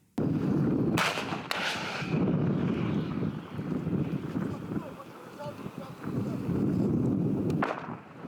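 Sharp bursts of machine-gun fire from an unmanned ground combat robot during a military test crack out at intervals over heavy wind rumble outdoors, loud and close, with gaps of blustery noise between shots.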